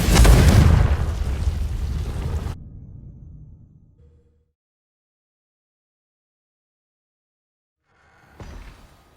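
A Confringo explosive spell from the Hogwarts Legacy video game goes off as a loud, broad blast right at the start. It decays over a few seconds and leaves silence, then a short fainter burst comes near the end.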